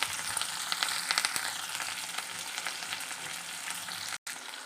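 Curry leaves frying in hot oil in a pan for a Telangana amaranth-leaf stir-fry, a dense, steady crackling sizzle with small pops, close and continuous, then a brief cut near the end.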